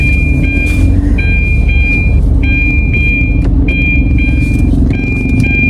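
A vehicle alarm beeps in a repeating high-pitched pattern of paired tones over the loud, constant rumble of an engine on the road.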